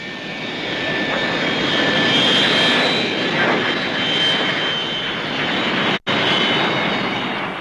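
De Havilland Comet 4 jet airliner using reverse thrust at an air show, a loud, sustained roaring engine rumble with whining tones that cuts out sharply for an instant near the end.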